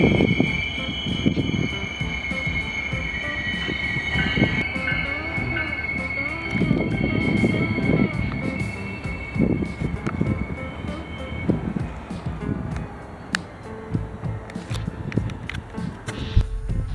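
A BNSF freight train rolls through the Barstow hump yard with a steady rumble of cars and wheels, thin high-pitched wheel squeal sustained throughout, fairly close and continuous.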